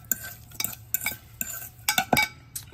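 Steak and shrimp with oil, lime pepper and salt are tossed in a bowl before going on a Weber griddle, producing a series of rhythmic wet slaps and clinks, fairly close.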